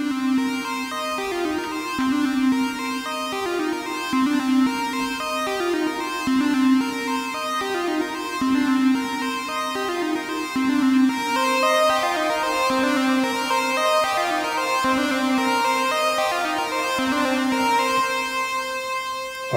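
A Eurorack synth patch sounds a square wave voice through a Behringer 150 module with pulse width modulation and reverb, playing a steady repeating sequence of bright, buzzy tones that keep shifting in timbre, with no talk.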